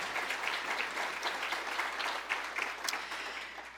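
A lecture audience at a 2018 talk on inherited retinal disease applauds, a soft, fairly distant patter of many hands clapping steadily for a few seconds.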